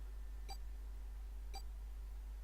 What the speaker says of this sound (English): His bracelet gave a cold electronic beep.